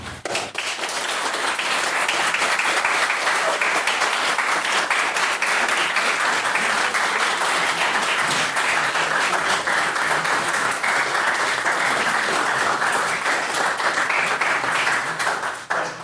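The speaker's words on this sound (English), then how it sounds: "And if we could again get another round of applause for Mr. Scott's maiden speech." Sustained audience applause at a debate, a dense wash of many hands clapping steadily for about fifteen seconds, with no talking over it.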